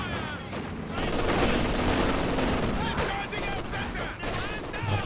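Light machine gun fire from several Grenadier squads in the real-time strategy game Company of Heroes 2 rattles in dense, continuous bursts amid battle noise, with a voice talking over it.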